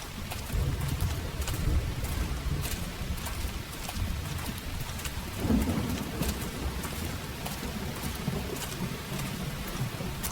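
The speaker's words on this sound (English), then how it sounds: "The rain's starting to let up, just in time for sunrise." Rain and thunder in Xenoblade Chronicles X: a steady wash of falling rain with a low rolling rumble of thunder swelling midway, constant and fairly close, with no voices.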